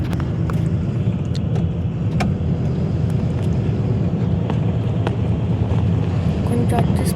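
Interior of a moving bus travelling from Bangalore to Namakkal: a loud, continuous engine and road rumble with wind buffeting the microphone and faint scattered rattles throughout.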